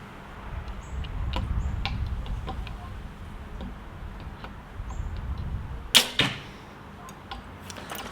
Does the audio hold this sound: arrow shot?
yes